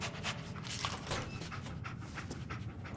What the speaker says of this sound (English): Dog meat. Get the scent, boy.